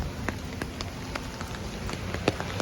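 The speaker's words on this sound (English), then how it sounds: "It was drizzling today" Light drizzle falling on a town street in Bastrop, central Texas, a soft steady patter with scattered sharper drops, heard alone.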